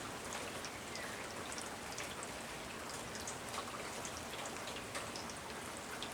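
Steady rain falls on a rural property beside a creek, a soft, even patter of drops spread across the whole stretch, faint and continuous with no talking.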